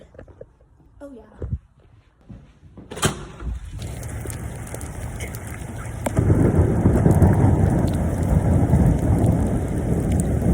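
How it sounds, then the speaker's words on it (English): A heavy outdoor downpour starts as a soft patter, cracks into a sharp thunder clap, then builds into a loud steady roar of rain that swells further halfway through; no one speaks. "But it is downpour raining."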